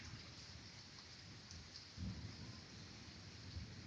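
A thunderstorm with steady rain hissing over everything and a low rumble of thunder swelling partway through, heard from a distance at low level with no voices.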